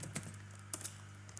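Keys on a computer keyboard are typed in a short burst, several crisp clicks close by over a low steady hum, with no voices.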